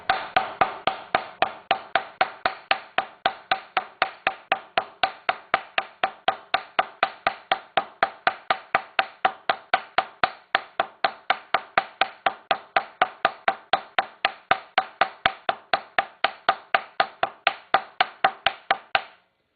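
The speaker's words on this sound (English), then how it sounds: "I'm just going to use a wooden mallet here, and I'm just going to start tapping around this evenly" A wooden mallet taps a steering bearing race into the frame of a Kawasaki KZ650 motorcycle, dozens of sharp, evenly spaced knocks in a steady rapid rhythm, close and clear with no talking.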